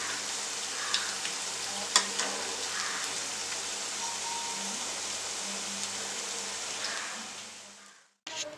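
Cauliflower hash browns fry in a pan with a steady, close sizzle that carries on evenly for about eight seconds, broken by a few small pops, then cuts off briefly before resuming.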